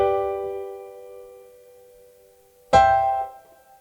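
A keyboard chord rings out sustained and steady, fades as the fingers lift early, then a second chord strikes sharply and decays quickly as the sustain pedal is released, clear and close with no talking.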